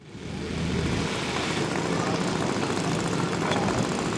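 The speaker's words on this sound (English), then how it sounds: "But Mike likes this plane" A propeller aircraft flies past at an airshow, its engine drone swelling quickly and then holding loud and steady, close and unbroken.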